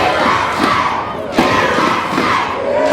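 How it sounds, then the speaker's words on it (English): A wrestling crowd at an NWA event chanting together, a loud, dense roar of many voices in rhythmic surges that fills the whole stretch. "And the crowd is all over the USA chant."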